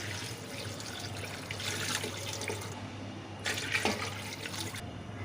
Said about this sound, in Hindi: तो यहाँ मैं 6 गिलास पानी शामिल कर रही हूँ।